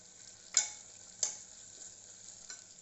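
Onion-garlic masala sautéing in a pan on a home stove, a quiet steady sizzle broken by three sharp stir scrapes spaced over about three seconds, no one speaking.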